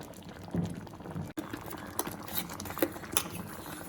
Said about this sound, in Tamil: தேங்காய் இதில் போட்டு கொதிக்க விட போகிறோம்